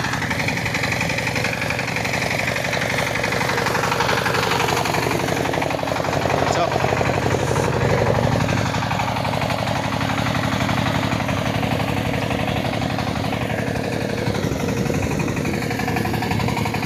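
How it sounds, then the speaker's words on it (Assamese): A tractor ploughing a village field runs steadily throughout, a loud, continuous, rough engine drone with chugging vibration and no pauses. "আৰু ট্ৰেক্টৰ দি হাল বৈ আছে"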